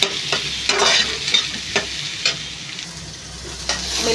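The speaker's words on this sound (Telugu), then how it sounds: "మిల్ మేకర్ వేసేసాం కదండి, అవి కూడా ఫ్రై చేసుకోవాలి." Soaked soya chunks frying in a little oil for protein-rich fried rice give a crackling sizzle, with sharp stirring strokes every half second or so.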